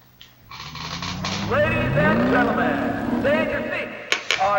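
A demolition derby car's engine revs and whines upward in pitch in the video game Test Drive Eve of Destruction, loud and close, with a couple of sharp knocks near the end.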